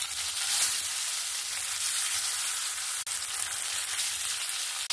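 Black pomfret pieces, coated in salt and turmeric, fry in hot oil with a steady, dense sizzle that holds loud and close throughout, broken by two brief dips near the end.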